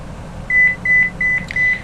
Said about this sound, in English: That's actually my alarm telling me to wake up.